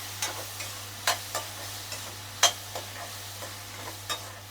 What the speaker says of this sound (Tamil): கத்திரிக்காவை போட்டு நல்லா வதக்கிக்கலாம்.